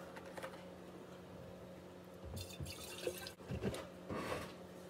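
Water is poured into an Instant Pot over rice, a quiet splashing trickle in short bursts with soft drips in a calm kitchen.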